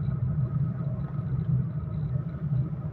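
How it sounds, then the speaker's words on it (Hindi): Busy road traffic at Chowk Munda makes a steady low rumble of passing engines, continuous and fairly distant, with no voices. "यहाँ से जो है ट्रैफिक का रोड के ऊपर रश भी है"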